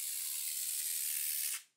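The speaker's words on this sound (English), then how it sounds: "We're down to 25 PSI and it's still spraying quite well." A battery-powered foamer conversion sprays at 25 PSI: a steady, close hiss of spray that runs unbroken for about a second and a half, then cuts off abruptly.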